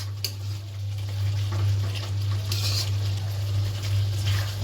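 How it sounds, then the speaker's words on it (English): Tomato and spice masala being stirred in a pan, a soft steady sizzle with faint scraping under a low constant hum. "As you can see, I am mixing it well. The tomato almost mixed in this spice."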